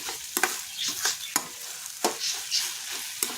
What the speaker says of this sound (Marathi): तोपर्यंत आपण ते थोडं असं दाबून चमच्याच्या साह्याने असं बारीक बारीक करायचं